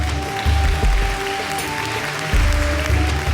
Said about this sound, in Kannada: ನಿಜವಾಗ್ಲೂ ಈ ಆಶ್ರಮಕ್ಕೊಂದು ಚಪ್ಪಾಳೆ ತಟ್ಟಲೇಬೇಕು